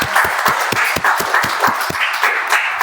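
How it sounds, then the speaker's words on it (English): A steady round of applause rises at a Toastmasters club meeting for the general evaluator, with many hands clapping together in an even, sustained wash and some distinct near claps standing out. "give a round of applause to General Evaluator Vineet"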